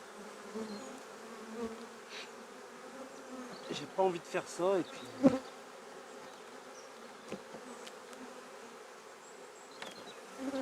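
Honey bees buzz steadily around a hive being inspected before winter, a sparse colony humming close by with a few louder passes near the listener while someone talks quietly over them.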